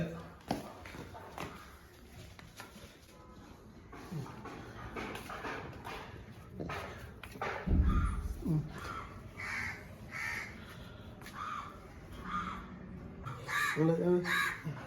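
Several harsh crow caws ring out at intervals, fairly near, with a dog's whimpers and brief human voices mixed in.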